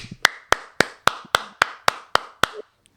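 Nine sharp hand claps in a steady, even rhythm, loud and close, one person alone imitating lone applause for baskets and free throws at a quiet basketball game.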